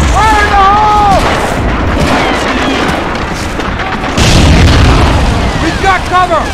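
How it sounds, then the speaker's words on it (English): In the Medal of Honor: Frontline war game, a charge blows a fence amid loud booms and gunfire, with shouted soldier voices and a heavy blast bursting in near the middle. "All right, Jones, let's blow this fence! Fire in the hole! Fire in the hole!"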